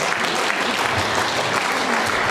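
Steady, dense applause from a large audience honoring people on stage at a charity event, continuous and fairly loud, with no talk over it.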